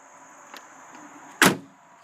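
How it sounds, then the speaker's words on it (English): A rear-hinged rear door of a 2003 Saturn Ion swings open with a brief clunk and creak, fairly close, after a faint click; low background hum throughout. "These are suicide doors, so they open like that."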